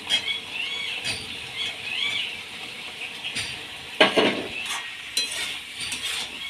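Meat and previously fried potatoes stirred together in a pan, a steady soft sizzle with scraping and clinking of the spoon against the pan, a sharper clatter near the middle.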